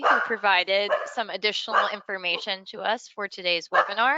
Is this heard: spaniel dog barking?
yes